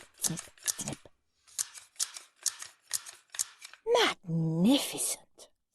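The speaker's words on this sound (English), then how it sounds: "Horrid Henry twirled the scissors. Snip, snip, snip, snip, snip." Scissor snips cutting hair, a rapid series of about five short crisp clicks spaced evenly, followed by a strained voice making a rising groan-like vocal sound.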